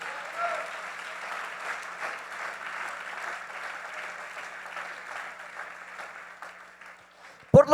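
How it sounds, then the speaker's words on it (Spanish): A church congregation applauds during a Spanish-language sermon, a moderate, even wash of clapping that fades slightly before a couple of sharp close knocks at the end. "Denle fuerte ese aplauso a Jesús."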